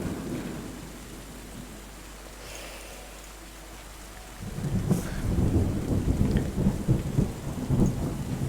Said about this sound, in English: it's raining right now, so the rain will do it.